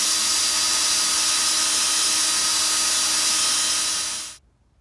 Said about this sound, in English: I'd just film the entire drilling out process and let it play for you